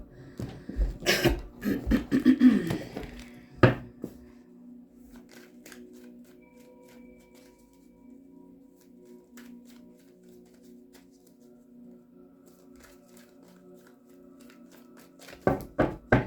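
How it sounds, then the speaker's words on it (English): A Rider-Waite tarot deck is shuffled close by in a few seconds of papery riffling and slapping at the start. A quiet room with a low hum follows, and a brief burst of card handling returns at the very end. "One more shuffle for Cancer."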